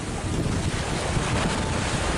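Strong wind buffets the microphone as lake swells of three to four feet roll against a sailboat, a loud, unbroken roar of wind and water.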